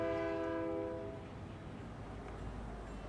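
In a modern video game, a train sounds a loud horn chord for about a second, then fades into a steady low rumble of rolling cars, with no voices over it.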